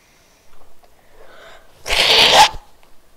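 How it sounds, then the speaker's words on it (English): A single short, forceful nose blow, loud and close, preceded by a few soft breathy sounds. "That was me blowing my nose"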